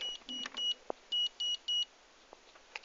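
A toy pager gives a run of short, high electronic beeps in uneven bursts, with a few soft clicks and taps between them. No one speaks.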